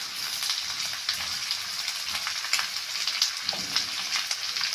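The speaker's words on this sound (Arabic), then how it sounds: "هشوح البصلايه يا حبايبي لحد ما تدبل" A single onion sautés in a frying pan, giving a steady, close sizzle and crackle with occasional stirring scrapes.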